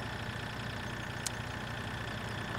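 A tractor engine in Farming Simulator 2013 runs with a steady, constant droning hum at a moderate level, with one brief click near the middle and no voices.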